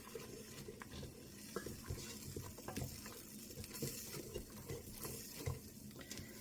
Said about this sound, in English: and just kind of let this simmer for a little bit.